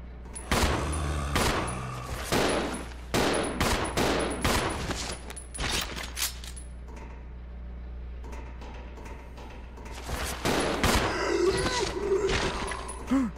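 Pistol gunfire in the Resident Evil 0 HD video game, loud sharp shots in quick irregular bursts over a steady low hum, with a quieter pause midway before the firing picks up again.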